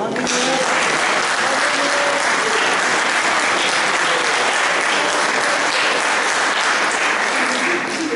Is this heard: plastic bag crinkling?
no